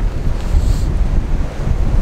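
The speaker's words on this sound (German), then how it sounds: "Ja, ist echt windig und kalt." Outdoor wind in cold, blustery weather roars steadily against the microphone, a loud, dense low rumble that continues without talk.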